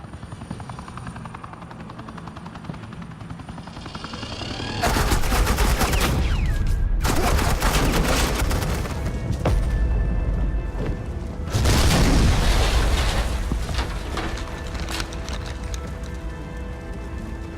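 Heavy automatic gunfire and explosions in the Batman: The Enemy Within video game, Telltale Series episode 5, as suppressing fire erupts in loud sustained bursts with booming impacts, a brief lull, then another intense barrage over a rumbling backdrop.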